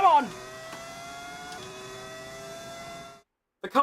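Formula 1 car in the racing game F1 25 with a V10 engine sound mod, a high sustained whining engine note that drops as it shifts, steady and clear for about three seconds before cutting off, then a brief voice.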